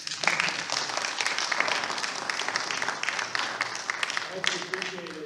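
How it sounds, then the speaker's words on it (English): An audience applauds the panelists at a land use and growth management forum, a steady, dense wash of clapping lasting several seconds, with some voices mixed in beneath it. "let's give all the panelists a round of applause"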